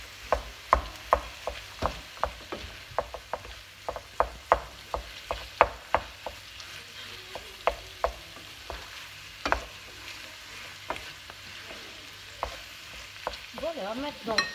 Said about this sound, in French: on va venir y rajouter la viande hachée. On va bien la mélanger à la préparation.